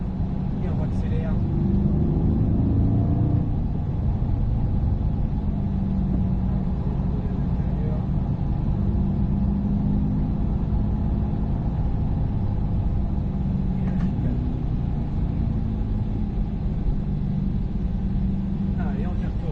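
A Corvette C8 accelerating on a race track, its engine a steady, loud low rumble throughout with no clear breaks, heard from inside the car.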